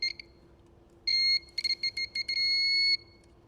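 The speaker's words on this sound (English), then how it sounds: "it beeps without any batteries or anything" Electrical test light touched to a live ignition coil feed on a Triumph Stag V8 gives off high electronic beeps, one short beep then a series of stuttering and sustained bleeps, clear and close in a quiet workshop.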